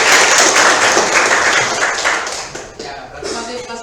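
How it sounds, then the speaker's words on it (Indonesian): Students in a classroom clap their hands together in a dense round of applause that fades slightly toward the end, with some voices mixed in. "Kan tepuk tangan dulu."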